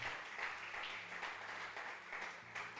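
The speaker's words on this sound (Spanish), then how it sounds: "Alguien que le aplauda al Señor esta mañana." A church congregation applauds during a sermon, a steady wash of many hands clapping at moderate distance with a faint low hum beneath.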